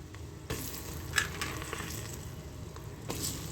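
Chopped ginger, garlic and tomato hit a pan of roasted gram flour over a low flame for a tomato-coriander shorba, giving a steady close sizzle and frying hiss with a brief stir-like burst near the start.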